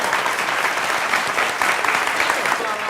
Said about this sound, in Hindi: तालियां बजाइए, खत्म।